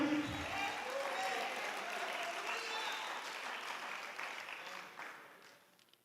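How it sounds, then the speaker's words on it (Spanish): A church congregation applauding during a Spanish-language evangelical service, a dense sustained wash of many hands clapping that fades gradually toward the end. "Den un aplauso al Señor Jesucristo."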